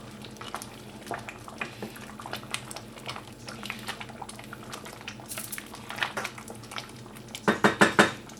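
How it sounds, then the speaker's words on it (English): Lentil dal simmering uncovered in a pot, a soft bubbling hiss with faint clinks of a spoon or pot, then a cluster of louder metallic knocks toward the end. "Now we will be simmering this without the lid, so it will thicken to our desired texture."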